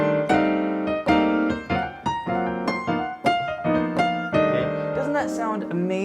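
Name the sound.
piano slide technique on the minor blues scale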